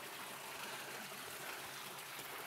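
A soft, continuous rush of falling and splashing water from a garden waterfall in a Japanese koi show garden, heard quietly and alone without any talk.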